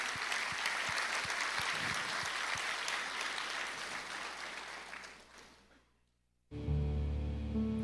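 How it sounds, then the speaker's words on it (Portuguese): A church congregation applauds during a sermon, with steady, full clapping that gradually fades to near silence before music abruptly starts. "Aplauda o Senhor."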